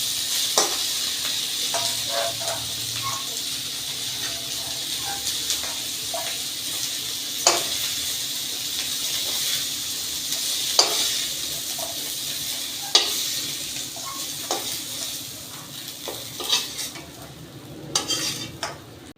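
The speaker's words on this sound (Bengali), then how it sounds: "শুটকিটা ভাজা হয়ে গেছে" Dried fish (shutki) crackles softly as it fries in a pan, with a steady low sizzle under repeated sharp scrapes and taps of a utensil stirring it, no voices.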